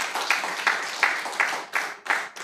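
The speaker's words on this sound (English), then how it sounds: "Please clap for that" An audience at a practice management training session claps, a burst of applause with a fairly even rhythm of hand claps, moderately loud, repeating for a couple of seconds without speech over it.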